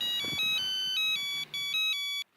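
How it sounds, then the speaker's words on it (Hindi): A bright electronic phone ringtone plays a repeating melodic pattern, loud and close, then cuts off. "एक मिनट, फोन है शायद, देखता हूँ।"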